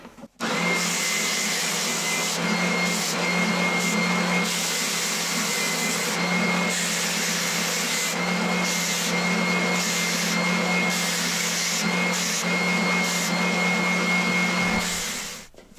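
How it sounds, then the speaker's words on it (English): An oscillating sander with a 120 grit belt levels the frets of a mahogany Fender-style guitar neck, giving a loud, steady whirring grind close by for the full length, with slight dips in pressure. "using my 120 grit belt on my oscillating sander here"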